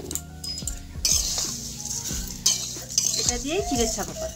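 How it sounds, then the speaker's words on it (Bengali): Flattened rice (chire) fries in a pan for a festive sweet, with a utensil scraping and clinking against the metal over a soft sizzle, close by, while someone speaks. "এদিকে চিড়েটাও একটু ভেজে নেব"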